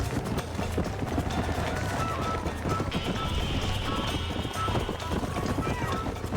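Rapid hoofbeats of a galloping horse in the video game Red Dead Redemption pound steadily throughout, mixed with busy game sounds and someone talking over them.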